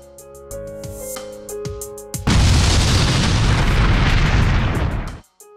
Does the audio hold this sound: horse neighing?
no